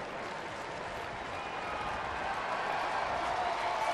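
Stadium crowd at a Rockies at Tigers baseball game in Detroit, a steady broad roar of cheering and applause that swells slightly toward the end, continuous with no clear pauses.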